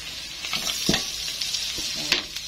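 Ginger, garlic and chili frying in a pan, a steady bright sizzle with a few soft stirring scrapes and clinks, close and continuous with no voices.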